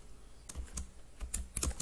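Keys on a computer keyboard clatter as a command is typed, a few quick irregular clicks close by with short pauses between.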